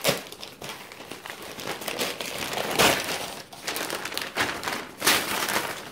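Paper scraps crumpled and rustled by hand, a continuous crinkling with louder crunchy bursts at irregular intervals, close and alone.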